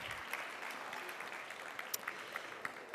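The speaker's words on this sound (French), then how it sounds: "on peut les applaudir une dernière fois" Quiet audience applause at a ribbon award ceremony, a steady soft patter of many hands clapping at a distance, with scattered sharper claps standing out.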